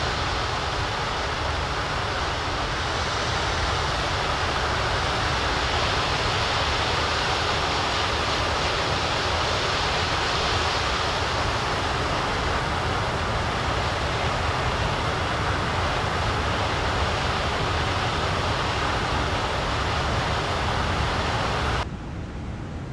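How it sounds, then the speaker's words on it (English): Airbus A350 engines in a flight simulator roar as a steady, loud, broadband drone that holds unchanged for over twenty seconds before cutting off abruptly. "That's engine sounds for you."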